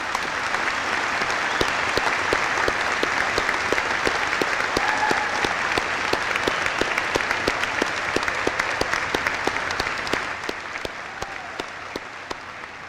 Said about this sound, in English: I'd like for the folks that are here in the audience to give these young men and women a round of applause